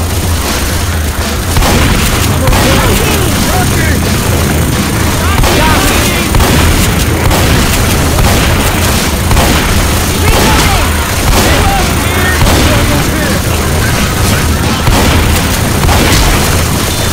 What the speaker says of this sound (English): Pipe bomb. Pipe bomb!